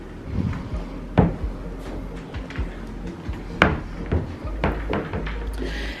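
A lacquered closet door in a Waldorf Astoria Beijing hotel room opens with a few soft wooden thunks and clicks, close by, over low room noise.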